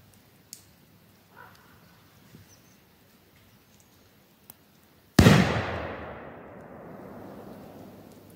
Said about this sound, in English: Next, I tested a larger smoke grenade with 100 grams of red phosphorus.